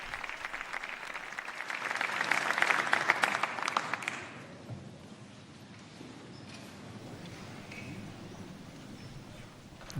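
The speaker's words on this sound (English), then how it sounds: "And we hear the sustained applause for Pope Leo's address to the civil authorities of Spain." Sustained applause from the crowd at a papal address to Spain's civil authorities, held in a columned hall, stays fairly distant and builds over about four seconds before fading into low murmuring room tone.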